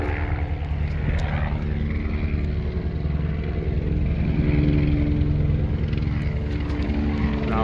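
A helicopter hovers low directly overhead, its loud, throbbing rotor and engine drone filling the scene steadily beside a parked 2015 Volvo XC70 T5 wagon.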